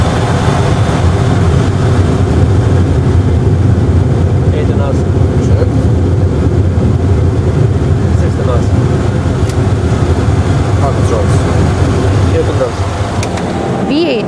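An airliner on its landing roll with speed brakes raised and thrust reversers at full, a loud, steady, low-heavy roar that holds without a break throughout, with what may be faint voices underneath.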